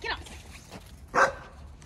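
A dog barks twice, one short bark at the start and a louder one a second later, each standing out over a quiet background.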